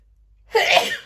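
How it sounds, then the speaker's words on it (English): A single sharp sneeze bursts out after a moment of near silence, close and fairly loud. "Excuse me, I'm going to sneeze."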